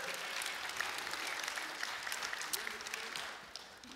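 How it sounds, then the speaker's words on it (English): Church audience breaking into applause, a dense, fairly quiet wash of clapping from many hands that holds steady for several seconds before thinning out at the end. "I think he deserves a round of applause."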